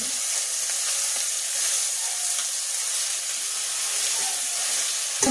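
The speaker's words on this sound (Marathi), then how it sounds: "तो तेलात आजी फोडणीमध्ये परतून घ्यायचा" Steady, dense sizzling of ground masala paste frying in hot oil, a continuous bright hiss with no talking, close by throughout.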